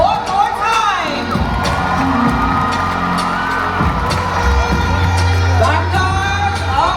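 A large crowd at the Jamaica Grand Gala cheers and whoops for servicewomen, loud and close, with shouts and yells rising over a steady roar.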